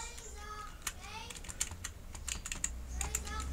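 Computer keyboard typing with bursts of key clicks and backspace taps while entering text in an online learning tool, close and steady over a quiet room.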